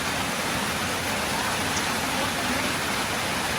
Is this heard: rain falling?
yes